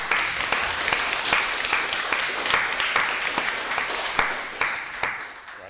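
Audience applause after a lecture on postcolonial literatures: steady, dense clapping with scattered sharper claps, moderately loud and continuous throughout, slowly thinning toward the end.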